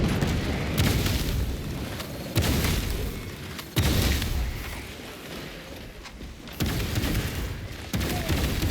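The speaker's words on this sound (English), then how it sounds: "Unleashing frag grenade." Frag grenade blasts in the video game Space Marine 2, heard as a series of loud booming bursts at intervals amid heavy combat noise and gunfire.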